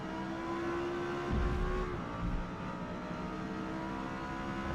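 Lexus LFA racing at Silverstone in Forza Motorsport, a steady engine drone with a falling pitch as it brakes hard, a brief louder burst partway through, continuous and close.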